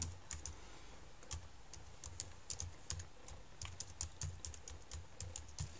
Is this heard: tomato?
no